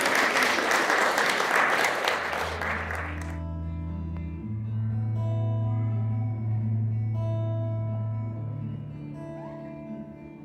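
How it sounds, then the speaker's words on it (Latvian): Audience applause welcoming a guitarist at a Ukrainian evening in Liepāja's Great Amber concert hall, a dense burst of clapping that stops abruptly after a few seconds and gives way to sustained guitar tones. "Sagaidām ar aplausiem!"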